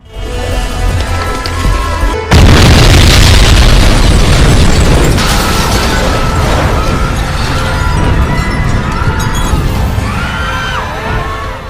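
A loud explosion bursts out at a gangsters' hideout, a sudden broadband blast followed by a long, heavy roar and rumble of debris and fire that stays loud for several seconds, with faint crackling toward the end.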